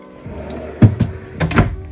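A deep cabinet drawer in a 2021 Keystone Cougar 30RLS RV slides and bumps shut, giving a couple of close wooden thunks and a short rattle.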